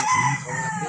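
A captured labuyo wild junglefowl rooster from Agoncillo, Batangas gives a short, close, strained crowing call that lasts under a second.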